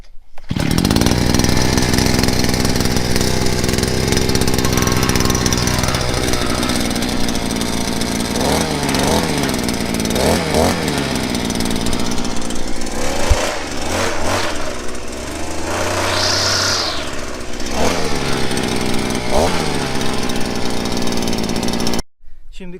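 A Chinese-made motorized brush cutter's small engine runs loudly and continuously, its pitch rising and falling with throttle changes, while a voice talks faintly underneath.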